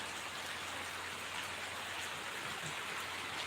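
Steady rain pours down during a sudden dark monsoon storm over farmland near Baramati, a continuous dense hiss of drops on surfaces with no voices.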